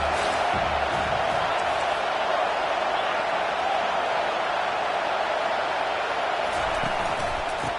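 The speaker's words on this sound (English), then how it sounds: "Decibels rising as the crowd gets behind this defense on 3rd down." A stadium crowd roars in a Madden football video game as the defense lines up on third down, a dense, steady wall of cheering that swells slightly and holds throughout.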